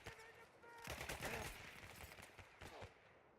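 Rapid bursts of automatic gunfire and scattered shots from enemies in a video game, a dense, crackling exchange at moderate level throughout, with no talking heard.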